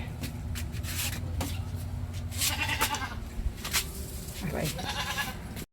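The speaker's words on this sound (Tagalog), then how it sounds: "Ayan ang kambing. Nangingain, tanghaling tapat." A goat bleats while grazing outdoors at midday in the heat, with a few harmonic calls rising above steady background noise and rustling.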